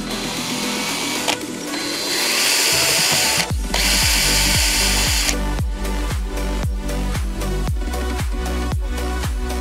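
A power drill with a tiny 1.5 mm bit pre-drills a pilot hole while a car radio is being fitted, whirring steadily and then pulsing in quick repeated bursts, loud and close.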